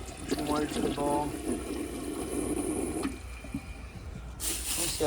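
Water is poured into the bowl of a 1983 Gerber Mt Vernon toilet, a close splashing gurgle for a few seconds that fades, followed by a brief hiss near the end.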